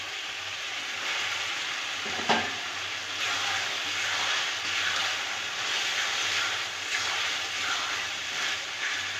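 Steady, loud sizzle of spice masala frying in a pan for chicken kadai as chopped tomato goes in, one brief clatter near the start, continuous broadband hiss throughout with no voices.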